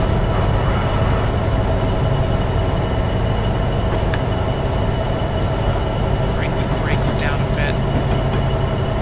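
A train in Train Sim 2015 rumbles on steadily, with a continuous low mechanical drone and occasional faint squeals and clanks rising above it.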